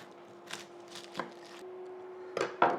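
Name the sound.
chopping an onion with a knife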